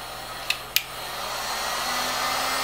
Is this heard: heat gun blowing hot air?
yes